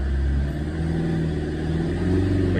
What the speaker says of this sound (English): if we bring our revs up